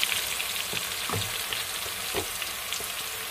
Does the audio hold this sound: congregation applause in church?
no